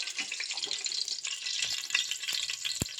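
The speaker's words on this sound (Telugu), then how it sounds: "నూనె వేడెక్కిన తర్వాత రెండు బిర్యానీ ఆకులు వేసుకోవాలి ఆయిల్లో" Two bay leaves dropped into hot oil give a steady close sizzle with light crackles and a sharp utensil tap near the end, no talking.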